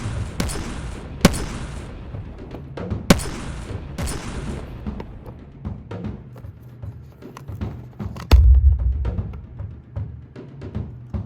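Gunfire in a Godzilla fan film: several sharp, loud shots ring out at irregular intervals, followed by a heavy low boom and rumbling.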